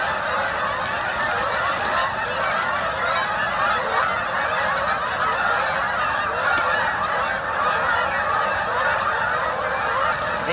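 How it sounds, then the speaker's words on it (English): A large flock of geese honks loudly and without pause, their overlapping calls forming a dense, steady clamour near a bushcraft camp. "I like the geese, but not when they're squawking that loud"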